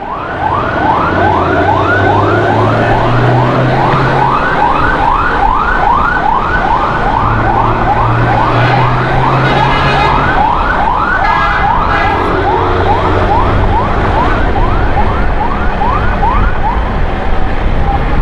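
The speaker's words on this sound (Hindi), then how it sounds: "लेकिन हम इस फायर ब्रिगेड के पीछे पीछे जा रहे हैं" A fire engine's loud wailing siren cycles rapidly and continuously up and down, close by, over the rumble of Karachi traffic, with a low horn blaring now and then.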